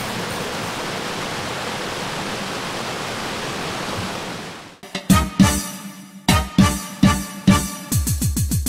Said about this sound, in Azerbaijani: Qoşa şəlalə Şah dağın 2000 metr yüksəkliklərindən axıb gəlir